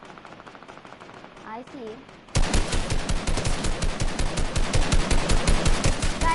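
Rapid video-game gunfire bursts in and dominates from about a third of the way in, dense machine-gun rattling that continues loudly to the end, with a brief spoken remark early on.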